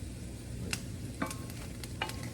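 Chickpeas with seasonings stirred and fried in a pan: a soft steady sizzle with a few sharp scraping clicks of the utensil against the pan, close and fairly quiet, with no voices.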